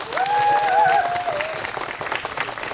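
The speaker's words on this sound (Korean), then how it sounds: "큰 박수 한번 더 부탁드리겠습니다" Audience applause at a Catholic radio station's first-anniversary public broadcast talk concert, a full crowd clapping steadily and loudly before it thins out, with a brief whistle-like tone near the start.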